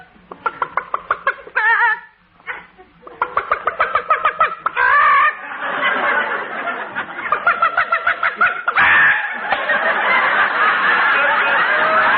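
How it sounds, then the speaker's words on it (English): A hen sitting on her nest clucks in a radio sound effect, a near series of rhythmic, chuckling clucks and cackles that break off briefly, then resume more densely and continue to the end. "Oh, Fred, look at that hen sitting on the nest"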